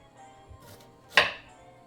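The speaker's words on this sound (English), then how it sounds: "cut my ginger on the board here because I don't want to cut my hand" A single sharp knife chop through ginger on a cutting board, one clear close stroke standing out after a few faint scrapes, with no talking.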